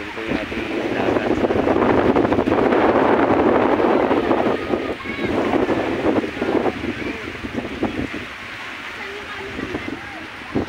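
Wind buffets the microphone over a broad rush of sea surf at Dingalan, loud at first then easing, with faint voices talking in the background.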